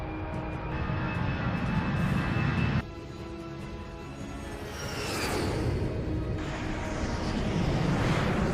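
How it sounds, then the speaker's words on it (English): An Air India Express jet airliner takes off from Dubai International Airport, with a loud, steady engine roar that drops back, then swells again with a rising whine. "The flight started its takeoff roll from Dubai International Airport"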